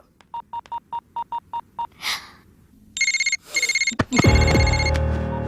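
A mobile phone is dialled, giving a quick run of eight short, evenly spaced keypad beeps, then bursts of an electronic ringing tone that build into louder, fuller sound by the end.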